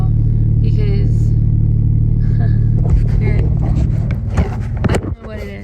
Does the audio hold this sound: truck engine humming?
yes